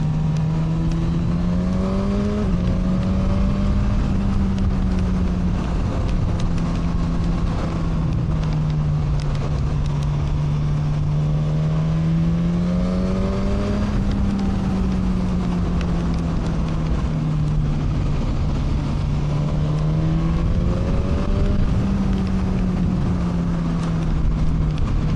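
Suzuki GSX-S1000 motorcycle engine pulling hard on the road in B riding mode with traction control partly on, a steady loud drone rising and easing in pitch over several gear-held surges, with continuous wind rush throughout.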